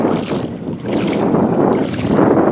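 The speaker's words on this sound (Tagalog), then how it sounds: "yung hangin ngayon, masarap, malamig" Strong, cool December wind on an island roars and buffets across the microphone in gusty surges, loud and continuous with no voices.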